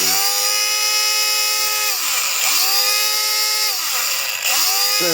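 A 12-volt cordless angle grinder running on its own, a loud high-pitched motor whine that dips and rises again in speed about three times, close up with no speech.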